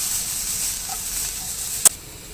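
Onions sauté in a pan with a steady, soft high sizzle and a single sharp tick near the end.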